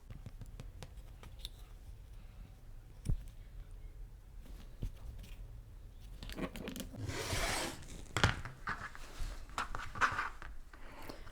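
Fabric being trimmed to a clean straight edge for a Christmas quilt block, with soft, close cutting and handling noises that swell into a denser rustling, scraping stretch before settling into quieter handling.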